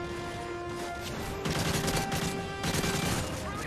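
Gunfire in the Modern Warfare 3 video game comes in bursts of rapid, rattling automatic shots that repeat over a steady game background hum, with no talk over them.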